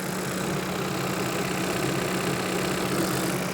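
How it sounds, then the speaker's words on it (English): A CASE backhoe loader's diesel engine idles steadily at close range, a constant low rumble with a faint knocking chug that holds unchanged throughout, with no voices. "Now that the machine's running, we're going to check the transmission fluid level."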